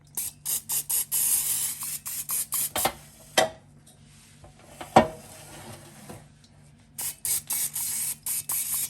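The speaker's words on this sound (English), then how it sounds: "I'm gonna spray it again with cooking spray." Short hissing bursts of aerosol cooking spray onto a turkey, several quick pumps in a row, then a pause and another run of sprays, close by with no talking.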